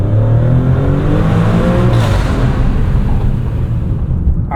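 Exhaust of a 2023 Maserati Grecale Trofeo accelerating, heard from inside the cabin with a window open, a loud rising engine note climbing through the revs, then a brief shift and continued strong roar.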